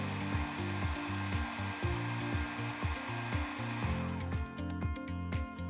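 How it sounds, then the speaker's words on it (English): A GW 24V cordless heat gun runs steadily with a continuous airy fan whir and a low motor hum, close and fairly loud throughout, with faint rhythmic knocking in the background. "squeeze and hold the main trigger to turn the heat gun on"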